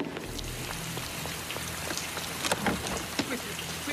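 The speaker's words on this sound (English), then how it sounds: "And on top of everything, it's raining." Rain falls steadily in a dramatised scene, a dense patter of drops on surfaces with a few sharper splashes, moderately close, with faint movement in the background.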